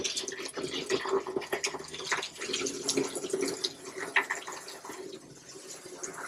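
Water spraying from an RV shower wand while the plumbing is winterized, a faint uneven splashing and trickling into the shower pan with no talk over it.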